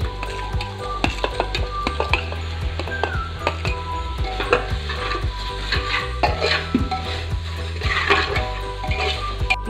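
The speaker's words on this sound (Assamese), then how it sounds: "এতিয়া আমি এই বিলাহীখিনি দি দিম।" Chicken in a pressure cooker being stirred after tomatoes go in for a local-style curry, with repeated scraping and clinking of a spoon against the metal pot over a steady low sizzle, close and continuous with no talking.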